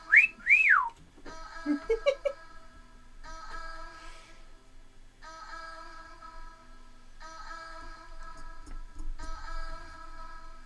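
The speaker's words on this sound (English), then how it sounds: "since the music just got quiet, I can actually hear Blanche downstairs doing her cat call whistle." A sharp two-part catcall whistle, rising then falling, sounds at the start from a pet bird downstairs, followed by faint, repeating electronic tones in the background.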